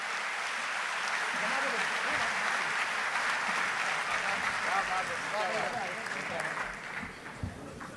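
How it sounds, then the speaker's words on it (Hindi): A kavi sammelan poetry-recital audience claps loudly and continuously to welcome a poet, the applause thinning toward the end as scattered voices rise underneath. "जोरदार तालियों के साथ उसका स्वागत करिए"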